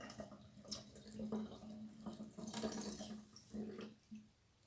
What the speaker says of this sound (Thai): ล้างถั่วเขียวก่อนด้วยจ้ะพี่น้องเพราะเราซื้อมาเราไม่รู้ว่าเออ เขาผสมอะไรบ้างเนาะกว่าจะมาขายเนาะนะฮะ ก็จะล้างหลายๆ น้ำด้วยจ้ะพี่น้อง